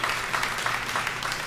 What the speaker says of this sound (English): I just want to quickly give a round of applause to all of them